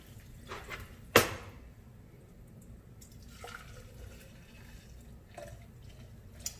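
Water rinsing out a container used for a cucumber and ginger drink: a sharp splash and pour near the start, then quieter trickles and small slosh sounds against a low background hum.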